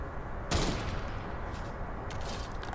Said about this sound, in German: Also nochmal auf den zu schießen.